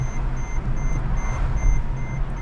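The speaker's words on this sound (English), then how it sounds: "one of the most annoying things on the planet is that beeping doesn't stop." A cheap, worn-out Mercedes car sounds a warning chime that keeps going: evenly spaced high electronic beeps repeat without pause over a loud low engine and road rumble inside the cabin.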